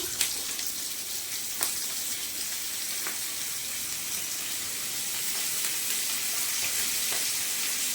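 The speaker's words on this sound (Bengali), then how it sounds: "এবার পেঁয়াজগুলো দিয়ে দিচ্ছি" Onions frying with garlic in a pan give a steady, bright, even hiss throughout, with a few faint clicks of a utensil and no voices.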